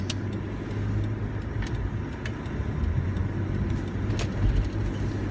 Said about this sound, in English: Yeah, that was a Tesla.